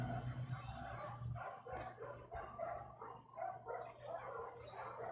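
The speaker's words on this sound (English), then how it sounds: "I can hear a dog barking." A dog barks faintly and at a distance in a rhythmic run of muffled woofs under a steady low hum, with no talking over it.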